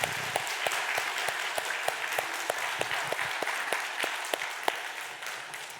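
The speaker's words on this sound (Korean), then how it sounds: "하나님께 응원과 칭찬과 격려를 담고 박수 한번" A church congregation gives a steady round of applause during a Sunday service, with crisp, evenly paced claps rising over a dense wash of hands and no voices.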